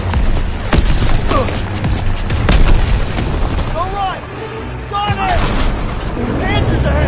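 Gunfire and explosions in Call of Duty: WWII keep up a loud, dense battlefield din of booms and rattling shots, with shouting voices cutting in over the noise.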